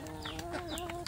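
A free-range village hen clucks in a quick run of soft, pulsing calls, fairly quiet and alone, ready to lay eggs.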